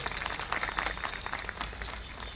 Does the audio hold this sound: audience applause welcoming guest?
yes